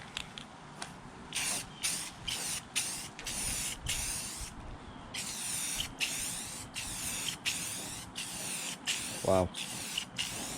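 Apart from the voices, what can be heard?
spraying Rust-Oleum lens tint onto Camaro taillights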